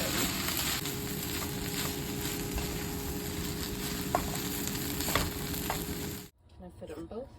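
Fried rice stir-fried and mixed with soy and teriyaki sauce on a hibachi-style griddle, a loud, steady sizzle with occasional spatula taps, close by, cutting off near the end to quiet room sound.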